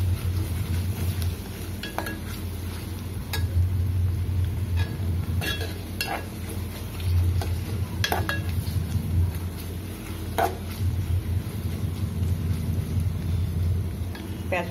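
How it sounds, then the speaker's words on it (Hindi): Onions fry in a hot pan with a steady close sizzle, broken by scattered clinks and scrapes of a spoon stirring against the metal. "सबसे पहले मैं प्याज को फ्राई करूंगी"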